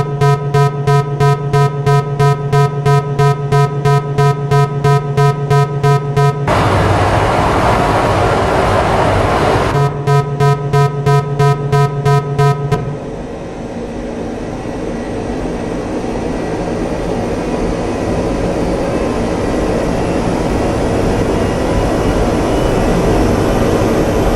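A jet aircraft takes off in the DCS World simulator: a loud, steady engine drone with a rapid repeating tick pulses, interrupted by a broad rushing roar, then giving way to a smoother, lower airflow rumble as the aircraft climbs away.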